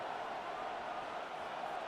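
Home stadium crowd at an NFL Thursday night game between the Rams and 49ers, a steady, dense roar of many voices filling the air with no breaks or distinct peaks.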